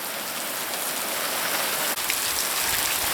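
Sudden ice-cold rain pours steadily onto surfaces beside a trailer overhang at an off-grid build site, a dense, continuous hiss of drops with a brief knock partway through and no talking.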